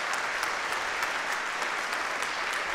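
A television singing contest audience in a semi-final claps steadily and densely as a performer leaves the stage, a full, sustained wash of applause with no talking over it.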